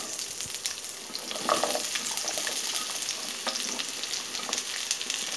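Onions for mint chutney sizzle and fry in a pan with light salt, giving a steady close hiss and crackle plus occasional stirring scrapes throughout, with no talk over it.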